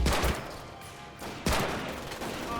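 Bursts of gunfire from the World War II shooter Medal of Honor: Pacific Assault crackle in two loud volleys separated by a brief lull, sharp reports layered over a dense, noisy battlefield ambience.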